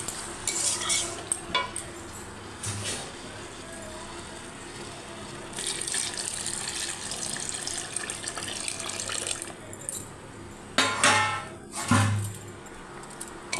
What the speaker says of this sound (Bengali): এবার আমি জলটা ঢেলে দেবো